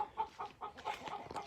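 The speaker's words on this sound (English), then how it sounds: "This is my Rhode Island Reds that I raised up from little babies." Rhode Island Red chickens on a farm cluck softly in a series of short, repeated calls, fairly faint and close, with no talking over them.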